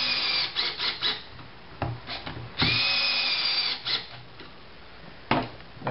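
A power drill drives screws through a ski binding toe piece into a race ski, its whirring motor rising and cutting out in repeated short bursts with one longer sustained run, loud and close.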